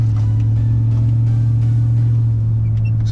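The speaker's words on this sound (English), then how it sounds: "Excuse my loud exhaust." A Chevy car with a missing exhaust drives along with a loud, deep, steady droning rumble, close and constant with no talk over it.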